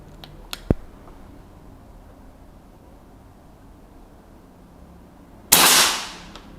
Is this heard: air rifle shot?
yes